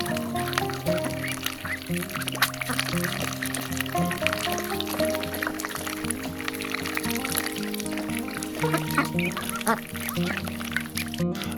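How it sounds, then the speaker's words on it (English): Young Cayuga ducks quack and chatter continuously nearby, with splashing and pouring water sounds mixed in as they play in water containers. "Crazy ducks."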